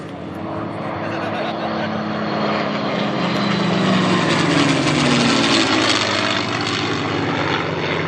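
A B model P-51 Mustang, a heavy WWII single-engine propeller fighter, runs its piston engine at an airshow, a loud, continuous throaty drone that swells as it moves nearby with no speech over it.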